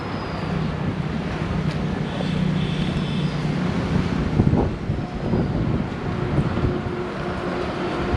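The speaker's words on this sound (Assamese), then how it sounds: "সুন্দৰ বতাহ বলি আছে দেই" Steady wind rushes and buffets a GoPro camera microphone beside a pond at Gopeswar Devalaya, Assam, a broad continuous roar with slight gusts and no talking.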